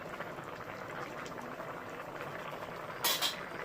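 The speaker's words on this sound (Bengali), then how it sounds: "এবার আবার ফুটতে দেবো কোনো কিছু হাত দেওয়া যাবে না এখন" Tomato khichuri bubbles in a pot, giving a close, steady boiling hiss and gurgle throughout, with a brief louder splutter near the end.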